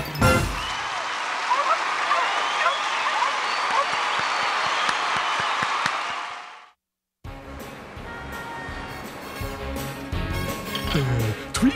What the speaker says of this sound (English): Boy, just listen to that crowd.